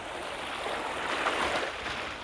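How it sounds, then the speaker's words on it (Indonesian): Heavy waves roll steadily onto a sandy beach, a continuous broadband wash of surf with no clear breaks, close and fairly loud against a faint wind. "dan ombaknya lumayan deras"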